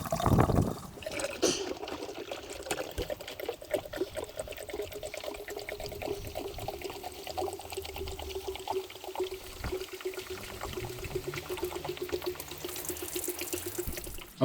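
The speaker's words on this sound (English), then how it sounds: "fill up that line with coolant all the way until it flows out the thermostat area," Coolant poured into a Mercruiser Alpha One boat engine block, filling until it flows out of the metal thermostat area, a steady close trickle of liquid lasting the whole stretch, with no talk over it.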